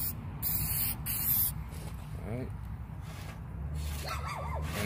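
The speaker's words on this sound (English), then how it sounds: "I'm just going to give these guys a quick little spray." Clear lacquer sprayed from an aerosol can onto wooden farmhouse candle holders, coming as a few short hissing bursts at close range over a low steady background hum.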